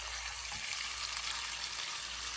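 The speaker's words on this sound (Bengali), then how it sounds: "এখন এটা ভালো করে একটু কষিয়ে নিচ্ছি।" Spiced beef with green chilies sautéing for tehari, a steady broad sizzle close by in the pan, continuous and fairly loud throughout with no voices.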